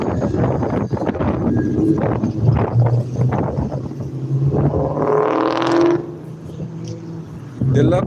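A souped-up car on a busy city street revs hard, its roar surging for about a second mid-clip over steady traffic rumble, with voices nearby.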